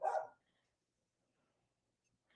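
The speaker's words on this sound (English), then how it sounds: "she's just barking, and the neighbors already complained about her barking" A female dog lets out one short, loud bark at the very start, followed by near silence with only faint room noise, indoors late at night.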